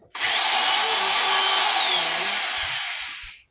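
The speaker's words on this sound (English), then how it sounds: "Okay, so first we'll drill our hole." A loud power drill runs steadily for about three seconds, starting abruptly and spinning down at the end, close by, drilling a hole in a ceiling to mount a hard-wired smoke detector.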